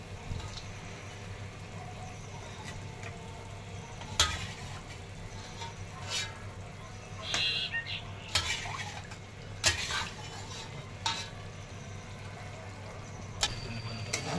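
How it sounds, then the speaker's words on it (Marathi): Chicken pieces and bay leaves for a spicy Maharashtrian chicken curry hit a pan and are stirred, with repeated sharp spoon scrapes and clanks against metal over a faint sizzle, spaced irregularly. "तेजपत्ता, पिसे टाकून घेत आहे. तर हे पीस टाकून घेत आहे आता."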